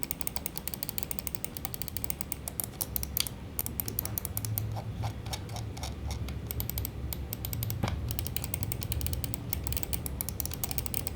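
Fantech Yari Pro gaming mouse clicks and scrolls close up, producing a busy run of sharp, rapid ticks and clicks with a few louder snaps, heard alone without talk.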